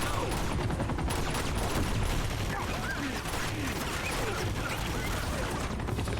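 Dense, continuous gunfire in a video game firefight, a rapid stream of shots at steady loudness throughout with no pauses.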